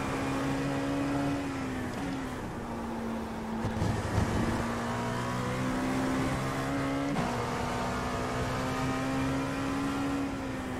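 Dallara P217 LMP2 prototype engine in iRacing at Le Mans, a steady loud drone that drops in pitch at a gear change and climbs again, with a second pitch shift later, running continuously without talk.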